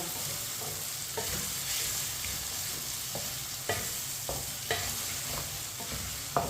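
Tomatoes cook over medium heat in a pan with a steady sizzle while a spoon scrapes and stirs, giving several distinct clinks and scrapes against the pan, close and alone with no talk.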